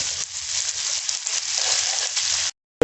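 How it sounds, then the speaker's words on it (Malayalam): Ginger and garlic frying in a pan for tapioca biryani, a steady close sizzle that runs on without a break and then cuts off abruptly. "നമ്മുടെ ഇഞ്ചിയും വെളുത്തുള്ളിയും ഒന്ന് ജസ്റ്റ് ഒന്ന് മൂത്ത് കിട്ടണം."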